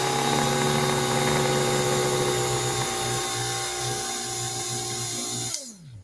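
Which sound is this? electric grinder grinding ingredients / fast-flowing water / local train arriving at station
electric grinder grinding ingredients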